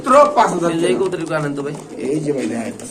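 Pigeons coo at a pigeon farm, soft low throaty calls repeating close by and overlapping, with a voice likely mixed in.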